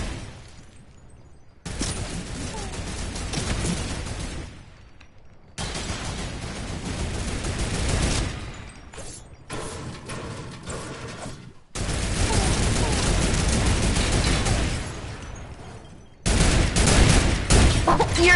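Bursts of turret gunfire in the Fortnite video game come in loud sustained volleys separated by short gaps, with no talk over them.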